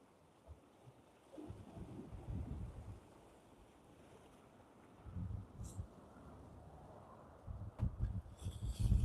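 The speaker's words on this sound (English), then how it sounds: "listen to the sound of the waves beating on the rocks." Ocean waves break on rocks along the coast of Grenada in the Caribbean, swelling into several separate surges with rough, low wash under steady wind buffeting the microphone, and no voices.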